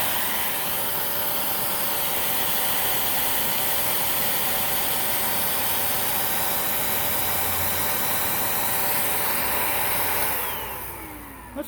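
A Sebo Dart vacuum cleaner runs steadily during an airflow test at the bag chamber, its loud, even motor roar holding for about ten seconds before winding down near the end, with no talking.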